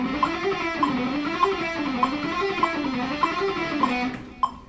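A guitar picking a rapid run of six notes per beat, the line rising and falling in a smooth wave with a soft tick marking each beat, steady and even before a final accented note.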